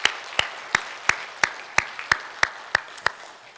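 A church congregation claps to honor the choir after a song, the applause heard as a sparse, even series of about ten sharp claps spaced roughly a third of a second apart, moderately close with no talking.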